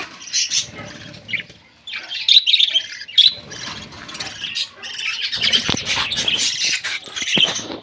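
Pet budgerigars from a breeding pair kept at home chirp and squawk in bright, busy bursts, with short pauses between flurries of calls close to the listener.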